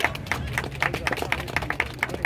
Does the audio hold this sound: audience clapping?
yes